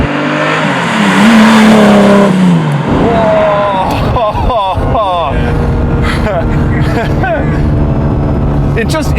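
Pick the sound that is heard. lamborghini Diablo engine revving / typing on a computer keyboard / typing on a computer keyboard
lamborghini Diablo engine revving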